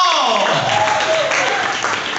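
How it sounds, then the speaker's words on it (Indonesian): Audience applause during a public speaking training session for university students in Riau, a steady broadband wash of clapping lasting a couple of seconds with a voice faintly audible beneath. "Tepuk tangan buat Riko,"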